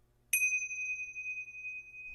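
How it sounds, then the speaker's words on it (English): A single bright bell strikes once and its clear metallic tone rings on, slowly fading, alone in a quiet room. "he's getting his bells out"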